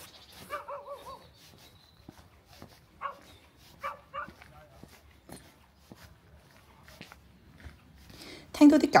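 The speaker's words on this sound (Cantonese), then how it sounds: "聽到啲狗吠聲呢，我諗大家都應該估到呢條路其實係放狗嘅熱點啦" Dogs barking along a countryside walking path on a rainy spring morning in Switzerland, with scattered short barks and yips at a moderate distance over quiet outdoor ambience.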